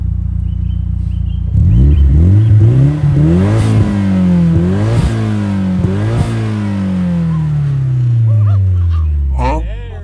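A 1999 Nissan Silvia S15 Spec R's turbocharged SR20DET inline four-cylinder revs repeatedly, rising and falling in loud, close bursts that continue throughout, with people talking over the engine.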